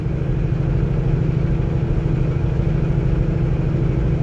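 Steady, even rumble of the Cummins engine in a late-model Peterbilt 579 pulling a fully loaded 53-foot trailer, heard close and constant for the whole stretch.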